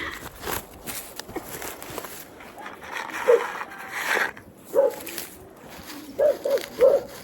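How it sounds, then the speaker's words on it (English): A dog barks several times in short, separate bursts, some in quick pairs, over faint outdoor background noise. "The neighbor's dog."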